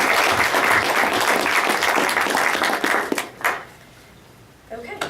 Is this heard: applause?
yes